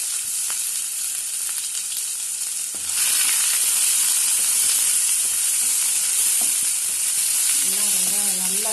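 Onion drops into hot oil with mustard seeds and urad dal, the frying jumping abruptly louder into a strong, close hiss and crackle that carries on steadily; a brief voice-like sound comes near the end.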